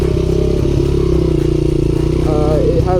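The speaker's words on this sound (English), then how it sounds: "this is a 1988 Honda XR100" A 1988 Honda XR100R dirt bike idles steadily and close by for the whole stretch, its engine pulsing low with a faint rattle and a slight rise in pitch near the end.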